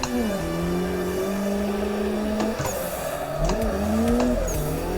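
An engine note rises and falls as a drifting car is clutch-kicked in the racing game Assetto Corsa, with revving surges, a dip and a renewed climb over steady tire noise.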